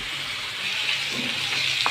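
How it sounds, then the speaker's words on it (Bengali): Broiler chicken frying in a pan on the stove, a steady hissing sizzle with soft crackles throughout, close and continuous, no voices. "এখন ভাজা হচ্ছে"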